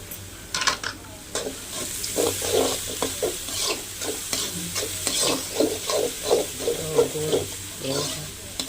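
Salted onions sauté in a pan, stirred briskly with a spatula. Rhythmic scraping strokes repeat over a constant close sizzle, loud and near.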